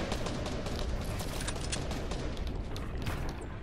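Dense, overlapping gunfire crackles in a video game battle, a continuous volley of distant shots with no clear pauses.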